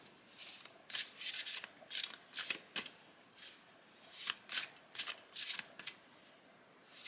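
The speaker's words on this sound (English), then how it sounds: "I'm going to shuffle these cards, The Voice of the Soul's Oracle by Isabel Se" Cards are shuffled in quick repeated riffles, crisp bursts of flapping paper coming in clusters, close and fairly quiet, with no talking.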